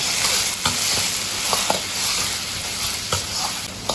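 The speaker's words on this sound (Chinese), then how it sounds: "多炒一会儿。" Fish stir-fried in a wok with tomato ketchup and sugar sizzles steadily and loudly, while a spatula scrapes and clacks against the pan at irregular intervals.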